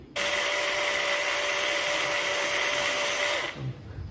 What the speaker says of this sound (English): Now you drill carefully 8 millimeter hole